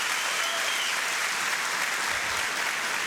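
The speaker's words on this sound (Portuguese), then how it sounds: "Você pode dar mais um aplauso para Ele?" A church congregation claps in steady, dense applause during an evening worship service, filling the room evenly from start to finish with no pauses.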